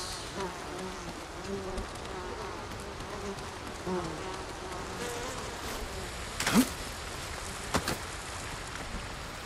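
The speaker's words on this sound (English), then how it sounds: "Uh-oh. Hornets." Hornets buzz steadily in the game Ghost of Tsushima, a soft, continuous droning hum at low level with a couple of brief sharper sounds near the end, and no talking.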